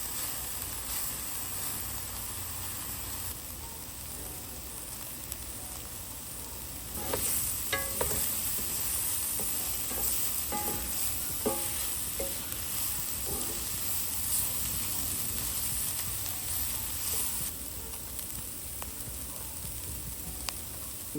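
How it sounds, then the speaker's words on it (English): Chopped onions and ground beef fry in a pan for Cajun dirty rice, a continuous close sizzle with a steady hiss, and stirring scrapes grow busier partway through, with no speech. "The onions are still continuing to cook. The ground beef is continuing to cook."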